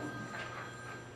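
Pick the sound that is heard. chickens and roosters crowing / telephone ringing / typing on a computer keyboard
telephone ringing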